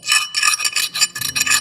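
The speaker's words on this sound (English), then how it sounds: "Chainsaw file." A chainsaw file rasps across an axe blade in quick repeated strokes, a steady rhythmic scraping close to the microphone with no voices.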